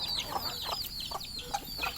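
Young chicks and grown chickens roaming free outdoors, with a series of short, high peeping calls and clucks repeating close by at an uneven rhythm, no talking.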